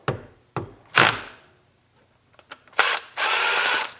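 Tools scrape and clatter against a Nissan 300ZX injector cap as screws are worked loose with a vice grip: sharp metallic clicks and knocks, then a longer rasping grind near the end.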